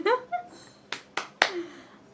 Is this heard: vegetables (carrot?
no